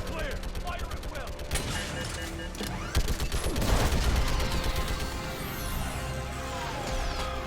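Gunfire in Mass Effect 3 rattles in rapid bursts of automatic shots, loud and continuous, with heavier impacts and debris crashing midway while voices speak over the battle.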